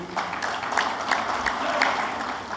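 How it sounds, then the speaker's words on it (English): Steady applause from a room full of people at a conference inauguration session, a dense wash of clapping with a few sharper claps standing out, continuous throughout. "one big round of applause for our chief guest for the day, Shri Nagendranath Sinha"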